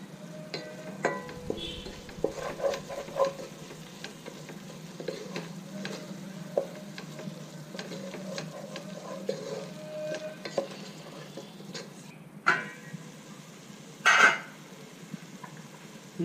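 Mutton frying in a pan sizzles steadily while biryani garam masala is stirred in, with repeated scrapes and clinks of the spoon against the pan. One louder clatter comes near the end, and no one speaks.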